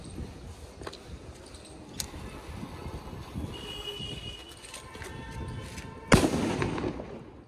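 Scattered pops and faint whistling build up, then a loud sharp bang from a green sutli firecracker bomb bursts out, followed by a crackling, hissing tail.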